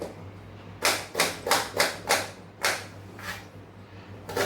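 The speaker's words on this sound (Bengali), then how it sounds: "পেঁয়াজটা কাটি" Onion being chopped with a knife for aloo paratha in a home kitchen, a series of about nine crisp, close chops in an uneven rhythm over a faint background hum.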